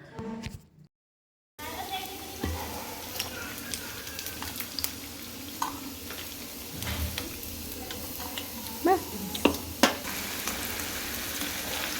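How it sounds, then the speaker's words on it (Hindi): Chicken coated in chaat masala, salt and red chili powder sizzles steadily in hot oil, a close, continuous crackle with scattered pops and occasional stirring scrapes, after a brief silent moment at the start. "अब इसको जो है फ्राई कर रहे हैं, बहुत ही चटपटा सा"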